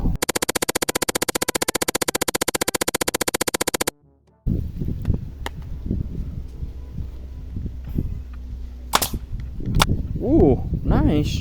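A toy Captain America cap pistol fires a long rapid burst of sharp snapping shots, then stops; afterward come scattered handling clicks and rustles, a few louder pops and a brief voice.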